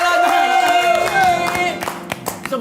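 A studio audience at a talk show applauds with a patter of clapping over tonal music, and voices come in as the clapping thins out.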